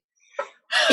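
A single short sneeze bursts out, followed by a louder broadband rush of breath or noise right after it, close and abrupt.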